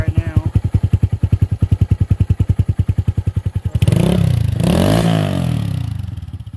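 A racing motorcycle with the exhaust silencer baffle fitted idles with a steady, rapid loud pulsing, then is revved hard into a sustained roar that rises and falls close to the microphone.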